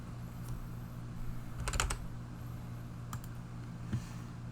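A computer keyboard clatters with a quick cluster of keystrokes, followed by a couple of isolated key presses, close and fairly quiet over a low steady hum.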